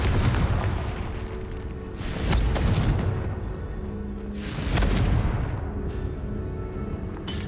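Explosions from the Confringo blasting spell in the video game Hogwarts Legacy, two heavy booming blasts a few seconds apart, each followed by a rumbling fade over low ambient noise.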